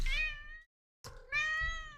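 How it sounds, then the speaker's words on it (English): A pet cat meows twice up close, a clear drawn-out meow, a brief pause, then a second longer meow, with no talking. "Sometimes you just gotta take a break to pet a cat."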